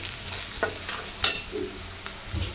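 Ground turmeric, cumin, coriander, salt and dried chili stirred into a frying paste in a pan: soft continuous sizzling with occasional scrapes of the spoon, close and fairly quiet; no talking.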